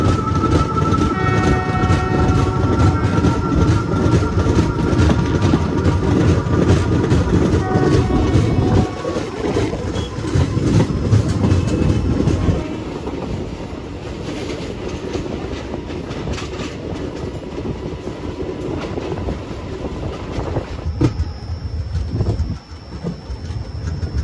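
The Kacheguda Guntur Express running on rails through the Nallamala forest, a loud, continuous rumble with rhythmic clickety-clack of wheels over rail joints, a steady tonal whine early on and a change in texture partway through.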